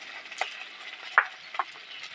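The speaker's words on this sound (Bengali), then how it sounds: "দিয়ে একটু মশলাটা কষিয়ে নেবো" A spice paste with turmeric and red chilli powder is stirred in a pan for a Bengali desi chicken jhol, giving faint, soft sizzling with a few brief scraping strokes of a spoon.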